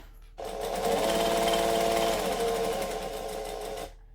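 Sewing machine stitching around a curve while making a heart-shaped eyeglasses case, a steady close whirring run of about three and a half seconds that starts and stops abruptly, with no talking.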